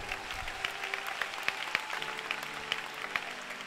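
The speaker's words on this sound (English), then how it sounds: "Clap for the word of God." Church congregation applauding during an anointing and communion service, a moderate steady patter of clapping with scattered sharper claps throughout, fairly close and without speech.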